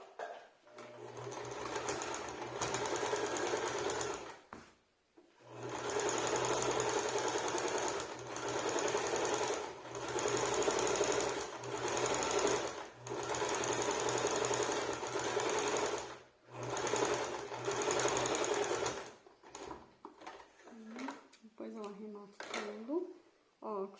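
A sewing machine runs a straight seam in long, steady motor bursts separated by short pauses, close and clear, with a voice speaking briefly near the end.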